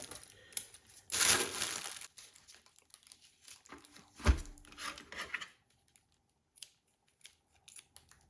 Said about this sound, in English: So let's go ahead and unwrap this